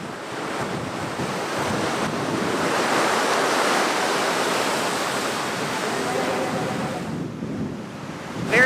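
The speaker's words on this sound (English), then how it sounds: "the waves come up, they go into the cave, and it spits back out what came in" Ocean surf surges into a sea cave on Oahu's eastern coast, a continuous loud roaring wash with wind noise on the microphone, swelling through the middle and easing toward the end.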